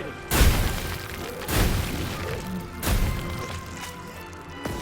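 Firebug flamethrower alternate fire in Killing Floor 2, heard as three loud booming bursts at roughly one-second intervals, each with a sharp onset and a roaring tail, over a steady mechanical background.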